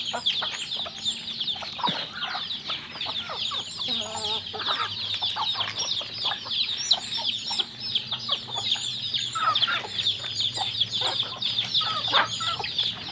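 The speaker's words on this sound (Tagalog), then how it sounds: "mga native chicken ating mga alaga" Several native chickens cluck and chatter continuously close by, overlapping calls rising and falling with no pauses.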